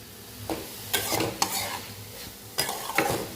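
Ash gourd poriyal stirred in a pan gives a soft sizzle broken by a few scraping stirs and light clinks of the spoon against the pan, close and quiet with no talking.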